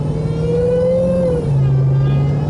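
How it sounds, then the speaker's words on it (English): A 2018 Jeep Trackhawk engine hums steadily at moderate revs while cruising through the gears, its pitch climbing and then dropping as it shifts, then settling into a lower drone. "All right, let me do a little cruise and go through the gears."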